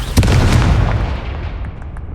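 A Confringo fire spell blast in the Hogwarts Legacy wizarding duel game: one loud, close booming burst that rolls off into a fading rumble, with no talk.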